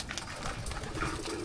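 Pigeons coo softly in a breeder's loft, low throaty calls repeating against a busy background of fluttering and rustling, fairly close but not loud.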